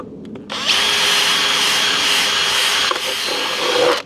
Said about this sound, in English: So if we just get a metal bit and just through there, that's all it needs to be.